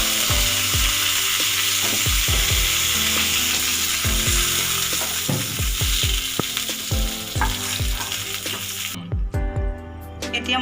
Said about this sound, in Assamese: এনেকৈ মই মিডিয়াম ফ্লেমত 3 মিনিটমান ফ্ৰাই কৰি ল'ম।